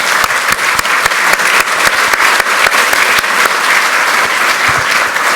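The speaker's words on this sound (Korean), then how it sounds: "이낙연 우리 전 총리님께도 박수를 좀 부탁드리겠습니다" Party lawmakers-elect at a National Assembly caucus meeting clap loudly for a former prime minister. Dense, sustained applause fills the whole stretch with sharp individual claps standing out close by.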